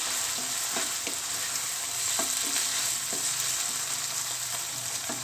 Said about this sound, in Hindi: अच्छे से मिक्स करेंगे एक बार।